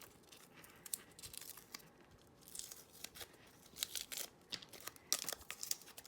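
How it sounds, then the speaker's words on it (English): Tape is peeled off an in-the-hoop embroidered spiderweb zip bag with a lobster claw clasp, giving soft, crinkly tearing and ripping sounds in several quiet, close pulls with no talking. "We're going to take the tape off of our lobster claw."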